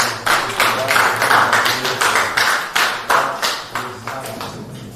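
An audience claps for Mr. Charles, the curator and educator of a museum, in a steady run of distinct, fairly loud handclaps that continue through the whole stretch with no voices over them.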